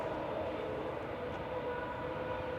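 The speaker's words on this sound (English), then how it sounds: "Just rolling out on 23 right is Ryanair 2241 from Bologna." A Ryanair Boeing 737 Max 8200 airliner rolls out on runway 23 right at Manchester Airport, giving a steady, broad engine roar that holds constant and moderately loud throughout, heard from a distance.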